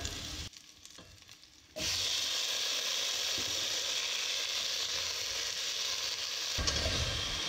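Pineapple pieces drop into hot oil with fried garlic for a sour salmon-head soup, a quiet stretch giving way to a sudden loud, sustained sizzle with faint stirring scrapes, close and without talk.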